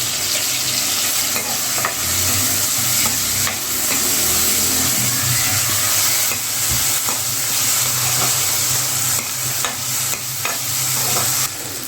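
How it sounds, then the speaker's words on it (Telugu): Tomatoes and cashews fry in a pan for a jackfruit-seed and cashew masala curry, giving a steady, close sizzle with stirring scrapes throughout, and no voices. "టమోటా బాగా ఫ్రై అయిన తర్వాత జీడిపప్పు వేసి ఫ్రై చేసుకోవాలి."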